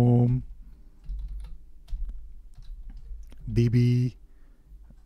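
Light clicks from a computer keyboard sound as a command is typed, scattered faint taps between two short bursts of a man's speech.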